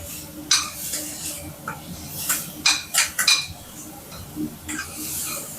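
Small onions sautéing with salt in a pan while cooking dried anchovy thokku, with soft background sizzle under a string of clinking spoon-on-pan stirring and scraping sounds.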